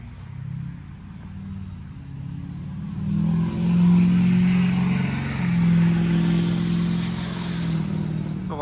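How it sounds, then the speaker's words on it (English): A loud truck drives past nearby, its deep engine rumble swelling to a peak through the middle and holding heavy before easing slightly, with no talking over it. "That's a loud truck, huh?"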